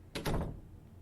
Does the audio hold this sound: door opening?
yes